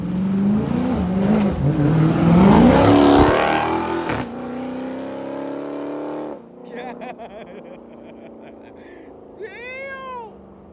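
A Dodge Challenger SRT 392 V8 roars loudly in traffic for several seconds, then the sound drops away; people talk over it, and a cat-like squeal appears near the end.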